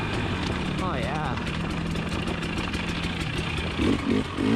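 A 2020 KTM 300 XC TPI two-stroke dirt bike hums steadily on single track, the engine buzzing close and continuous while a rider's voice cuts in briefly near the end.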